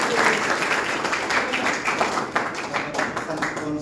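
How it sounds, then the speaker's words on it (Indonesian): A church congregation applauds during a morning worship service, with loud, dense clapping and scattered individual claps that carry on steadily through the short stretch. "Tepuk tangan dulu buat Tuhan"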